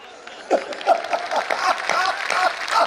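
Audience applause at a Hindi hasya kavi sammelan comedy poetry show, a dense, steady patter of clapping running throughout, with a voice speaking over it.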